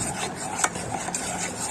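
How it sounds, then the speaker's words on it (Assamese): Mango paste being stirred with sugar in a pan for mango kheer, a close scraping, rubbing stir with a couple of sharper utensil clicks against the pan, alone without talk. "আমি চেনি দি পেষ্টটো ভালদৰে মিহলি কৰিছোঁ"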